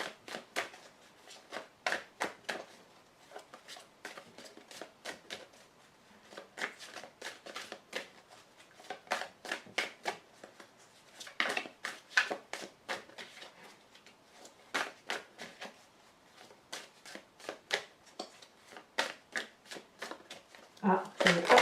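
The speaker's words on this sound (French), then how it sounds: "Je prends 5 cartes." A deck of cards handled for a card reading: repeated bursts of crisp riffling and flicking as cards are shuffled, cut and drawn, close and uneven in rhythm over about twenty seconds, with louder shuffles near the end.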